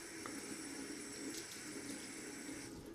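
Water runs steadily from a bathroom tap into a sink while shaving soap is being lathered, a continuous close hiss and splash with no talking.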